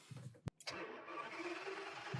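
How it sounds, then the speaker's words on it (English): Ferrari V12 of 731 hp starting: a brief starter whir, a sharp click, then the engine catches and settles into a loud, steady, rumbling idle close by. "I will start the car up. So you put the key in the ignition"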